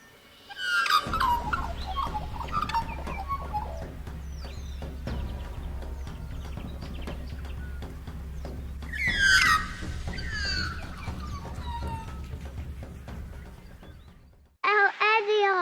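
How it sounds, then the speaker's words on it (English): A small bird in a tree, like a finch, gives a few high, quick chirps outdoors at Carnarvon Gorge, briefly and moderately near, over a steady low rumble and background sounds. "It's like a little finch."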